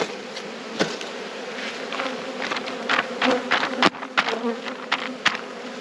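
Honeybees buzz steadily around an open hive during a spring inspection, a continuous close insect drone with scattered sharper clicks and knocks from handling the hive.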